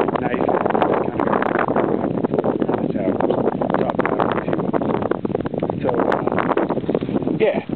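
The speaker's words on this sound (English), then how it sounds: "Starting to get some wind now." Strong wind buffets the microphone on a mountain ridge near the summit, a continuous loud roaring rush with someone speaking briefly over it.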